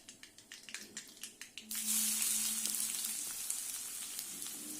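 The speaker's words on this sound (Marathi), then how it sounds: "कांदा आपण थोडा फ्राय होऊ देऊ" Mustard seeds crackle and pop in rapid, irregular bursts in hot oil for kanda batata poha. Finely chopped onion then hits the oil with a sudden loud, sustained hiss that carries on to the end of the clip, close up and without talk.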